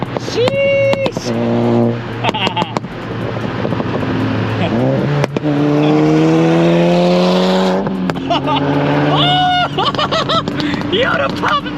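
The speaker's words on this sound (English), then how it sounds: "the pop in between gears. That just sounded so good." A full-bolt-on VW MK6 GTI accelerating through the gears, the engine rising and falling, with sharp exhaust pops in between shifts; people talk loudly over the car throughout.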